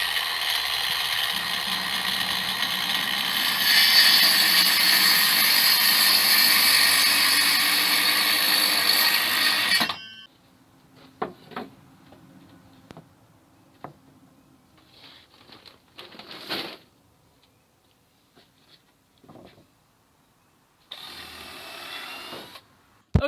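Power driver sinking deck screws into a board: a steady loud whirring drive for about ten seconds, close up, followed by quieter clicks, brief bursts and handling noises after the motor stops.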